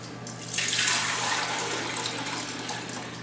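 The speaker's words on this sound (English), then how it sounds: "We're going to put about half brine, half cold water to actually cook it in." Brine and cold water pour into a pot holding a beef tongue with garlic and rosemary, a steady close rushing splash that swells after a moment and keeps flowing.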